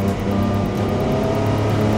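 A Porsche 962 Le Mans-winning race car's turbo engine drones loud and close, a continuous throaty roar with rising pitch and no talk.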